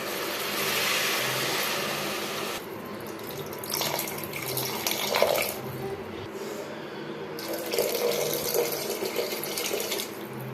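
Water being poured into a pot of mint rice, a steady, close rushing pour that runs for about ten seconds with slight surges partway through.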